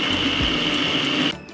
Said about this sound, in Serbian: Aronija je oprana i sada ću ju usitniti u secku.